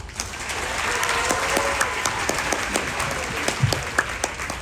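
An audience at a magician's show aboard the cruise ship MSC Seashore breaks into steady applause, many hands clapping together for several seconds, moderately loud and even throughout.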